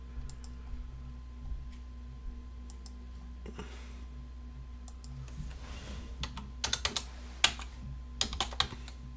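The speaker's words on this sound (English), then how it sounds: "I'll type them up in here" Keystrokes clatter on a computer keyboard in scattered clusters, sparse and light at first and then quickening into denser bursts toward the end, over a steady low electrical hum.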